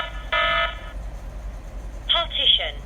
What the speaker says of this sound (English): this alarm has been triggered